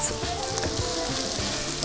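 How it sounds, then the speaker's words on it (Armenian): Carrot, onion and garlic frying in a pan give a steady, close sizzle with a few soft stirring scrapes throughout, no voices. "Տապակվող գազարի սոխի եւ սխտորին ավելացնում եմ չոր դաղց"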